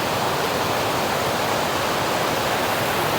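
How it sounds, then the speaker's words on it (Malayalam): Chooral waterfall inside a forest, a dense continuous roar of falling water, loud and close with no pauses. "ഇതാണ് വെള്ളച്ചാട്ടം."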